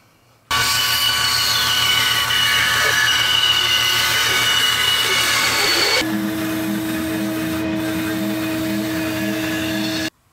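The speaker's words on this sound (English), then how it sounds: "We're going to sand it over to at the oscillating drum sander" Oscillating drum sander running on a wooden interior radius for a perpetual calendar, a loud steady whirring drone that starts abruptly, changes pitch midway as the wood contact shifts, then cuts off.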